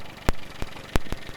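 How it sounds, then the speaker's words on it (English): A 1991 Nissan Figaro Turbo with its small MA10 engine idling, a steady low rumble punctuated by a few sharp periodic ticks or pulses, heard close with no talking. "Cute little engine, MA10."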